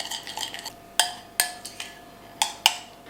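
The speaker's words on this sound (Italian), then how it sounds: "Aggiungo un cucchiaino di miele, sciolgo il lievito, basterà mescolare" A spoon stirs yeast and honey in a bowl for a panettone dough, giving several sharp clinks and scrapes against the bowl with short pauses between them, close and fairly clear with no voices.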